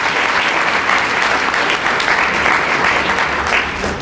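Audience applause for a county commissioner at a State of the County address fills the room, dense and steady throughout, loud and close with no breaks.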